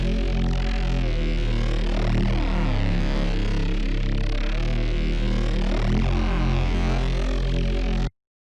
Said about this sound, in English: Bass El Monstro is a really nice Reese bass with some nice kind of vocal